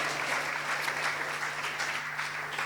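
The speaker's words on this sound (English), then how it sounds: "Please give him a round of applause." An audience at a youth conference convocation applauds as a speaker is called forward, steady continuous clapping with a low steady hum underneath throughout.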